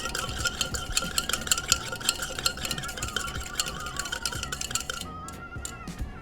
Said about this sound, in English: Then you're going to want to stir it until it's fully dissolved.